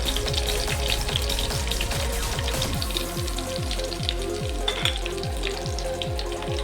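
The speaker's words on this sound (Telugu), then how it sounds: "బాగా ఫ్రై చేసుకుంటాం." Garlic, green chilies and cumin seeds fry steadily in hot oil in a pan for peanut chutney, a close, continuous crackling sizzle with rhythmic scraping underneath and no voices.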